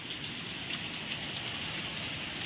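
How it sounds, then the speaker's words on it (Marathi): Soft, steady hiss of heavy afternoon rain falling on a rooftop terrace, fairly faint and even, with no talking. "एवढ्या जोरात पाऊस चालू आहे"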